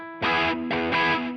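Three electric guitar chords with overdrive, delay and large plate reverb on a Fender Tone Master Pro are strummed in quick succession, each sustaining into the next, with echoing repeats and a wash of reverb.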